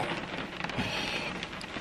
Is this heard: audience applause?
no